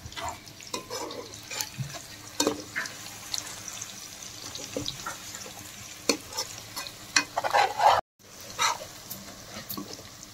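Eggs frying in a pan for egg dum biryani are stirred, with a spoon scraping in short irregular strokes over a steady sizzle, close and fairly loud, with one brief dropout near the end.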